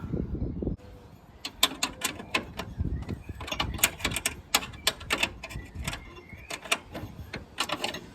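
Two spanners tightening radiator mounting bolts on a Triumph Spitfire 1500, giving close, quick metallic clicks and taps in irregular bursts after a brief low rumble at the start.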